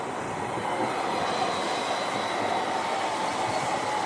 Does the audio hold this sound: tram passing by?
yes